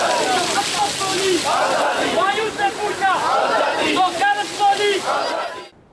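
Protest crowd chanting political slogans about Kashmir and India in unison, loud rhythmic call-and-response shouts from many voices, continuous and close, fading at the very end.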